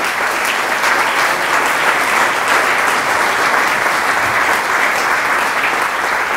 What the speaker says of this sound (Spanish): pide un fuerte aplauso, por favor, para Ángel